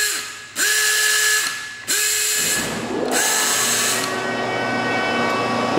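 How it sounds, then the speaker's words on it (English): Pneumatic ratcheting drive on a Taylor 20-section panel clamp running in loud, steady bursts, with a rising whine and clicking ratchet at each start and continuous mechanical whirring after. "you have your pneumatic ratcheting"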